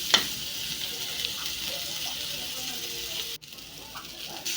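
Red onion sautés in a hot pan, giving a steady, close sizzling hiss that runs throughout with a brief dip near the end.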